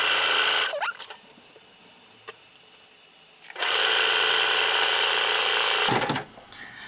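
A sewing machine stitches quilt fabric strips for a lattice four-patch block in two loud steady whirring bursts, the first short and the second longer, split by a quiet pause with faint handling noises.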